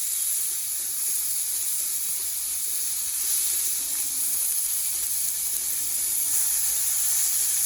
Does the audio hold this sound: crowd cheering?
no